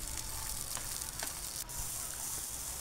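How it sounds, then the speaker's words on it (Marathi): Pigeon pea beans roasting in a little oil in a pan over low to medium flame, a soft continuous sizzle with faint crackles and a few light stirring clicks. "त्यावरती अगदी थोडंसं तेल घातलं आणि आपल्याला हे दाणे लो टू मीडियम फ्लेमवरती छान डाग लागेपर्यंत भाजून घ्यायचे आहे"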